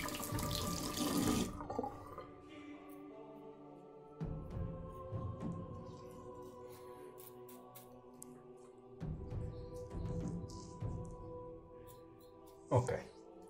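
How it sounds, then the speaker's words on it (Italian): Running tap water splashes into a sink as a face is rinsed after a shave with a 1996 Gillette G1000 razor, a steady close flow broken by bursts of splashing, with faint speech now and then. "Io mi sciacquo con acqua calda e acqua fredda"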